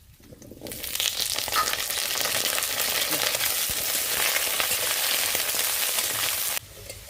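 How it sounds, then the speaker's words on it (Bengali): Potatoes dropped into hot oil in a wok burst into a loud, steady sizzle that holds for several seconds, then cuts off abruptly near the end, with no voices. "কড়াইটা গরম হয়ে গেছে, তেল দিয়ে আলুটাকে আমি এবার ভেজে নেব"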